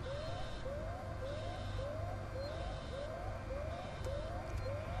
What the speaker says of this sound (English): Why alarms?